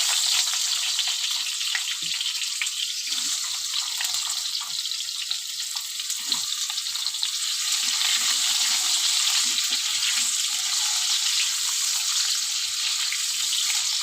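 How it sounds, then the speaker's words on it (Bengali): Steady, loud sizzling of cut potatoes frying in a pan with cumin seeds, a continuous crackling hiss with occasional small pops and no talking. "আলুটা একটু ভাজা ভাজা করে নেব"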